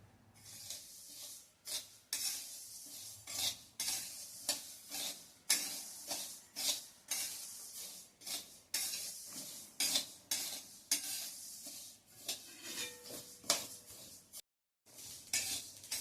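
Garden cress seeds (aliv) dry-roast slowly in a pan, stirred with steady, rhythmic scraping and rustling strokes, close and fairly quiet, with no one talking.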